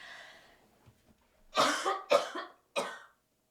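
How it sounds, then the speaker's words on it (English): A soft breath, then a burst of three harsh coughs from a woman in quick succession, close by, with a short pause before the last one. "She really can't stop coughing."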